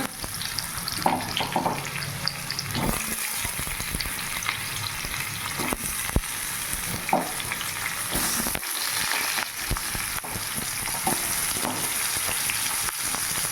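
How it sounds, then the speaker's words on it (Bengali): Potato pieces frying in hot oil in a home kitchen while a Bengali shukto vegetable dish is cooked, a loud, steady hiss of sizzling continuing throughout with occasional clinks and stirring noises. "এবার ওই তেলের মধ্যে দিয়ে দেব আলু"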